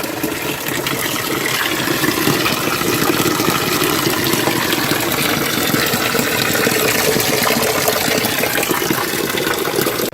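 Drinking water runs and gushes steadily just outside a cave, a continuous near, loud broadband wash of flowing water with no talk over it.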